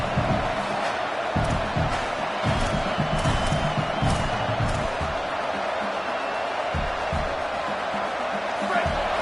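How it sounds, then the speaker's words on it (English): Home crowd at a Maryland vs UCLA football game cheering loudly, a sustained thick roar with scattered whoops and shouts, steady and near throughout. "how nice is it to have the home crowd going absolutely bananas?"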